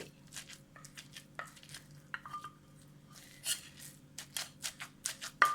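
A pestle pounds chili paste with fermented fish (pla ra) and canned fish in a mortar, landing a run of sharp, irregular thuds close by, some quick and clustered, others spaced apart.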